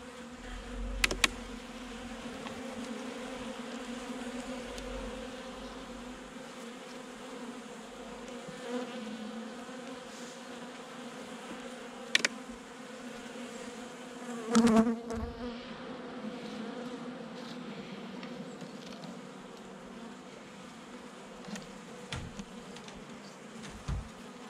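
Honeybees buzz steadily around an open hive during a November inspection, a dense close-up drone with a few sharp knocks and handling bumps along the way.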